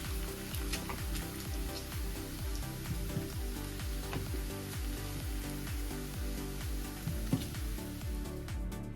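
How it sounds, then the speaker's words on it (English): Bacon sizzles and crackles steadily in a pan, a dense continuous hiss with scattered pops, beneath a faint rhythmic pulsing hum. "Look at that bacon sizzle."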